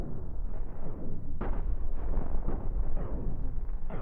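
Cannon fire and explosions in the space game Cosmoteer, a continuous muffled low rumble with several dull booming impacts, steady and fairly loud.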